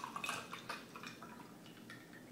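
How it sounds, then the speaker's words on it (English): Liquid and ice are poured into a glass for a mixed drink, giving a faint, brief run of light splashing and clinking drips with no talk. "go ahead and pour all of it in here, the ice included"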